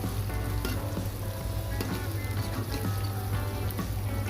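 Onions sautéing in oil in a pan with curry leaves and green chillies for a Tamil yam tamarind curry, a steady close sizzle and crackle with faint stirring, no talk.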